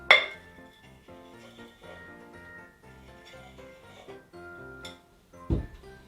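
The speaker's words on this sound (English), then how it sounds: "get your chocolate shavings and just rim it again" A cocktail glass clinks against a hard surface as its rim is coated in chocolate shavings, with soft scrapes and small glassy ticks, a bright clink at the start and a thud near the end, no talking.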